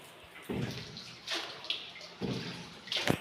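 Water drips and splashes intermittently from a cave ceiling during a boat ride, coming in a few soft, close bursts against a quiet, hollow background.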